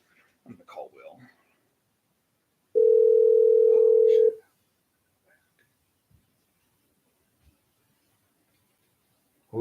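A steady telephone dial tone sounds loud and unbroken for about a second and a half while a call is placed, with faint whispery talk just before it and a few soft ticks afterward.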